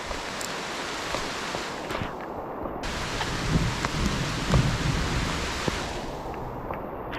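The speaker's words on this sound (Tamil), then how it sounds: "மழை பயங்கர மழை பெய்யுது" Heavy rain pours down at Leke Leke Waterfall in Bali, a dense, steady roar of water and wet hiss that stays loud and unbroken throughout, with no voices.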